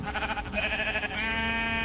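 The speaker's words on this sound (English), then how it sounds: "Where'd the sheep go?" A Minecraft sheep bleats loudly and close in several wavering, quavering calls, the last one held longer and steadier, with no talk.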